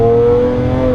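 A 2018 Lamborghini Aventador S with its exhaust flaps open gives a brief, loud, close engine note, a sustained tonal roar held for about a second.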